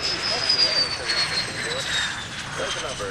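T-2 Buckeye jet warbird flying at EAA AirVenture Oshkosh: a steady jet whine slowly falling in pitch over a broad roar, moderately loud and passing, with a voice talking over it.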